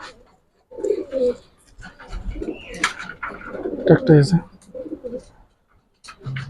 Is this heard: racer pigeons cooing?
yes